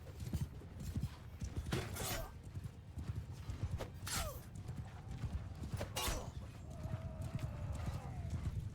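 Horses in Mount and Blade 2 Bannerlord gallop in a steady drumming clatter of hooves with occasional whinnies and battle clashes, while someone talks over the action.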